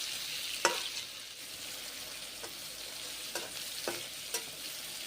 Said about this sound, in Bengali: এই যে নেড়ে চেড়ে ভেজে নিচ্ছি